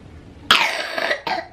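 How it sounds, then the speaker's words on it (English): A young child coughs twice nearby, a longer raspy cough followed by a brief second one. "Oh, and do you have a cough?"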